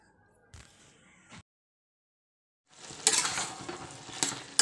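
A spoon scraping and stirring cabbage curry with dried chili powder in a pan, heard in a short burst of scraping, then silence, then louder, busier stirring with a faint sizzle toward the end.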